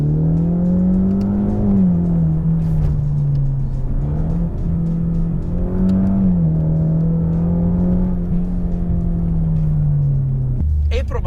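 A Ford Mustang EcoBoost four-cylinder engine hums and revs in a steady, wavering drone, rising and easing as it is driven on a low-traction surface, with someone speaking over it.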